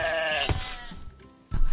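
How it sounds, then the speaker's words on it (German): Sheep bleating in Minecraft, one loud close wavering bleat followed by short thumps, with no talk. "Aber ein Schaf."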